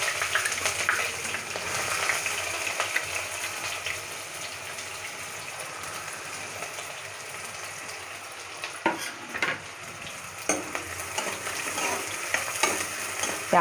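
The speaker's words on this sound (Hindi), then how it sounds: "अब मैं इसी में प्याज को भून लेती हूँ।" Onions frying in oil in a pan for a home-style egg dum biryani, a steady broad sizzle throughout with a few sharp spatula scrapes and stirs toward the end, no voices.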